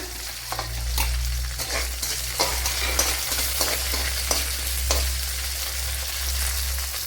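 Curry leaves and sliced green chillies sizzle in hot oil for a Kerala egg thoran, a loud close crackle with repeated sharp pops and stirring clicks over a low steady hum, without speech.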